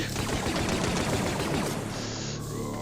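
Sustained gunfire in the Star Wars Death Troopers zombie video game, a dense, loud, continuous burst of rapid shots that rattles on for nearly three seconds with barely any pause.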